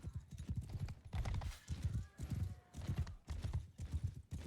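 Galloping hooves of mounted horse archers in a medieval battle video game, rapid clip-clop rhythms in repeated bursts, fairly close and prominent, with a brief whinny among them.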